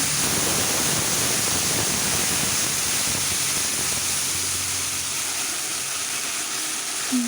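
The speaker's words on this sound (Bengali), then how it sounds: "এখন আমি জল দিয়ে দিচ্ছি।" Water poured into a hot pan of fried raw banana and potato curry makes a loud, continuous rushing hiss and sizzle that slowly eases over several seconds.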